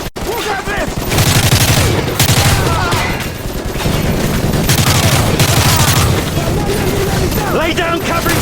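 Heavy gunfire and booming blasts in Call of Duty: Modern Warfare 3 combat, a dense, loud barrage of rapid shots and explosions running throughout, with voices calling out over the battle.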